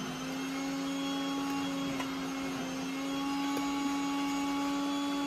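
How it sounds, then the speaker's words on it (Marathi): A kitchen mixer grinder runs steadily in a home, its motor giving a constant whining hum with no pauses and no voices on top. "त्या मिक्सरचा आवाज येतच असेल"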